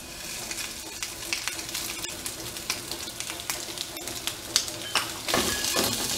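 Shrimp and browned onion stir-fry in a hot pan, giving a steady, close sizzle broken by small scraping stirs. The frying swells louder near the end.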